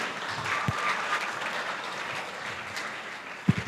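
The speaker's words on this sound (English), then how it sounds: "A round of applause" Steady applause from a crowd at a career expo, a dense wash of clapping throughout with a couple of sharper claps standing out.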